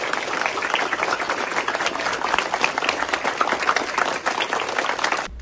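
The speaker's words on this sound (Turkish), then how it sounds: "Sınıftan çıktıktan sonra koridor ve merdivenlerde bekleyenler tarafından alkışlarla karşılanan Kılaç duygulandı." Sustained, dense applause from colleagues and students lining a school corridor and stairs for a retiring teacher, steady and loud throughout with a crowd murmur beneath.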